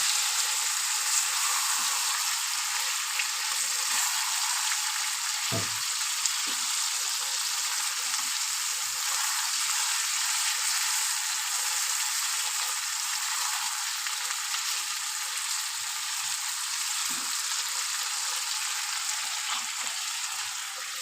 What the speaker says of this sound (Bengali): চিকেনটা দিয়ে আমি ভালো করে কষিয়ে নেব